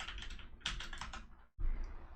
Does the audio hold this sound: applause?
no